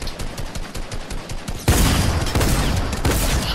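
Fortnite gunfire sprayed in a rapid burst of shots, first lighter and then a dense, loud stretch of repeated firing that keeps going to the end, with no talk over it.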